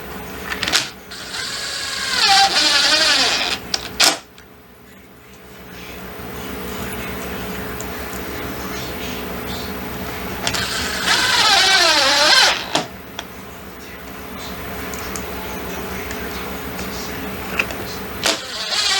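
Power drill driving 2-inch pan-head wafer screws while trimming out a glass sliding door, with two loud whirring runs that rise and strain, separated by quieter handling noise.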